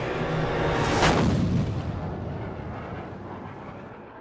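One loud, close artillery gun blast fires on command, then a long rumbling roar fades slowly away.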